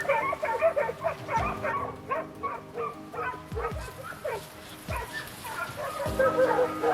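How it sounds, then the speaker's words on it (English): A hunting dog barks and yips in a rapid run of sharp, loud calls, some whimpering tones mixed in, over a steady low drone with occasional dull thumps. "the bark of a hunting dog pierces the silence"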